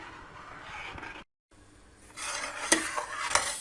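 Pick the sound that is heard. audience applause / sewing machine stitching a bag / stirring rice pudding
stirring rice pudding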